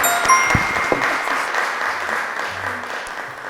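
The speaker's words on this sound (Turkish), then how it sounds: "İki masamızı da alkışlıyoruz arkadaşlar." Children on a quiz show applaud two tables of contestants, a steady, fairly loud round of many small hands clapping with a brief chime at the start.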